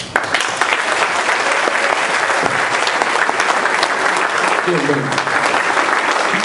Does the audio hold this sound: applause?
yes